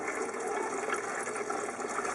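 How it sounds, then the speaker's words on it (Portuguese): Water pours steadily from the engine block drain of a rusty Fiat Tipo, a continuous splashing gush at close range with no pauses. "Então agora a gente está esvaziando ali o dreno do motor"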